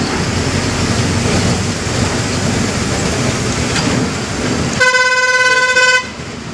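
Heavy traffic on a busy national highway in Surajpur district, Chhattisgarh, rumbles steadily around a bus, then a loud, close horn blares for about a second before the roadway noise continues.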